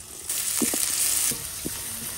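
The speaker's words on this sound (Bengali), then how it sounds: "পেঁয়াজ আর মরিচ হালকা ভাজা হয়েছে" Chopped onion and green chili sizzle in hot soybean oil for a boal fish bhuna, giving a close, steady frying hiss that swells partway through, with a few soft stirring knocks.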